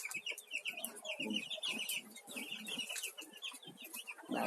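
Chickens cluck softly near newly hatched chicks, with a dense stream of high peeping chirps from the chicks under low clucks from the hens, nearby and steady throughout.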